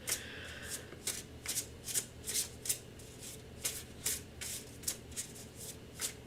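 Tarot cards are shuffled by hand up close in a quiet room. About a dozen brisk riffling bursts come in a loose, repeated rhythm.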